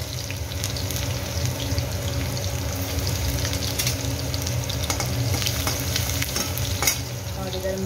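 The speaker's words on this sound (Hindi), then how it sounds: "थोड़ा सा गार्लिक दे दूँगी।" Garlic sizzles steadily in hot oil in a kadhai, a dense continuous frying hiss with occasional small pops and light clinks, close and fairly loud with no talking.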